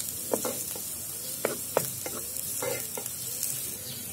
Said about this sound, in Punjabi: ਸ਼ਿਮਲਾ ਮਿਰਚ ਪਾ ਕੇ ਆਪਾਂ ਇਹਨੂੰ ਇੱਕ ਮਿੰਟ ਲਈ ਇਹਨੂੰ ਵੀ ਭੁੰਨ ਲਾਂਗੇ